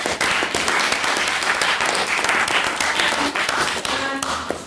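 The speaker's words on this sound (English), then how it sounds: "can I get another round of applause for Katarina for her maiden speech?" An audience at a formal debate applauds a maiden speech with steady, dense clapping that holds at a constant loudness for several seconds before easing slightly near the end.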